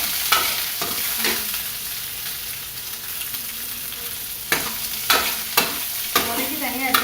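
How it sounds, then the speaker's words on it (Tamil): Okra sizzles as it is sautéed in a pan, a continuous close frying hiss broken by several sharp clattering stirs of a utensil against the pan. "வெண்டைக்காயை நல்லா வதக்கணும்"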